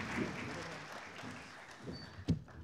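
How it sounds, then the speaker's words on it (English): Light, scattered audience applause at a venture summit panel, thin clapping fading out, with a few murmurs and a single sharp knock near the end. "Please join me in a round of applause."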